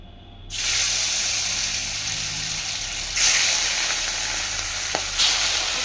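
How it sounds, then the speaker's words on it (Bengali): Rohu fish hits a hot oiled pan and a loud hissing sizzle starts abruptly, holding steady with a couple of brief surges and a small pop, close and with no speech. "এখন আঁচটা কমায় রাখতে হবে, কমায় মাছটা ভাজতে হবে।"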